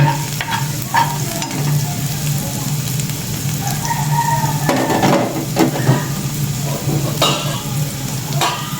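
Meat sautéed (sangkutsa) in a pan sizzles steadily under repeated stirring scrapes and occasional utensil clatter, with a low background hum.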